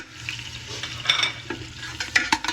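Onions sautéing in a pan for Filipino beef mechado, a steady close sizzle broken by scraping stir strokes and a few spatula clinks against the pot.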